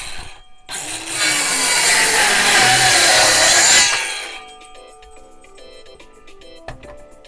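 A power saw cuts through two wooden deck roof boards stacked together in one loud, sustained pass of about three seconds, then winds down into a quieter mechanical whine with faint ticking.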